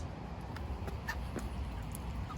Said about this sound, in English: All the mallard ducks are coming out from over there.